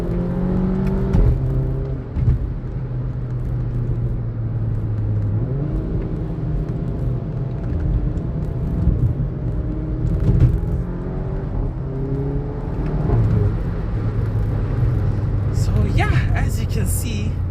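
Volkswagen Golf 7.5 GTI driven on a twisty back road in manual mode with paddle shifts, its engine rising and falling in pitch through gear changes as a steady interior drone, with a person talking over it throughout.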